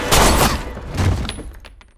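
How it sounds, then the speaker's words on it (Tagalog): A violent explosion from a film scene in X-Men: First Class, where a surge of power blasts a room and kills the guards: two loud rumbling bursts of debris and impact, the second fading into scattered crashes. "Ang matinding trauma ay nagpalabas ng kapangyarihan ni Eric sa marahas na pagsabog, ikinamatay ng mga gwardya at winasak ang silid."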